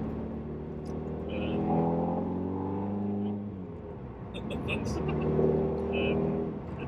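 A TVR sports car with its own TVR engine and a new exhaust runs steadily, a rumbling drone that swells and eases slightly, with a voice talking over it.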